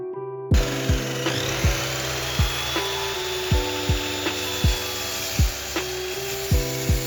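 Miter saw cutting wooden legs into angled pieces for a DIY nightstand, a series of about ten short repeated cuts, each a sharp whine dropping in pitch over a steady motor hum, close and loud.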